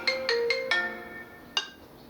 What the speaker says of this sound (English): my phone's going to start ringing now